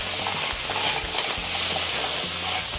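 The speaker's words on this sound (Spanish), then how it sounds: "lo que estamos haciendo es fritando el arroz, por eso se llama arroz frito coreano" Korean fried rice sizzles in a pan with sesame oil and soy sauce while it is stirred, a loud, close, steady hiss broken by scraping stirring strokes, with no voices.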